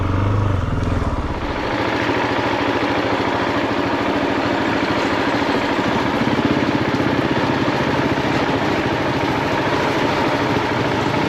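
A 2023 Gas Gas 700ES dirt bike engine chugs along at low revs with a steady, throbbing mid-pitched drone, close and loud, running continuously without speech.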